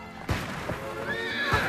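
A horse neighs in a rising whinny, with a few dull thuds like hooves or footsteps around it; fairly quiet and close.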